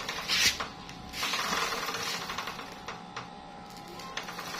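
A noisy, dry motorcycle chain turning before being oiled gives off a rattling, clicking mechanical chatter, close up, with a couple of louder bursts.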